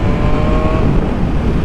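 A 2020 BMW S1000RR, a 1000 cc sport bike fitted with an exhaust tune, pulls hard in sixth gear, its engine a steady loud roar with a rising whine, close and continuous with no talk.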